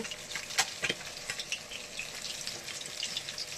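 Fish, a tangra, sizzling and frying in a pan with a steady crackle that fills the whole clip, plus a couple of sharper spatters early on. No one speaks.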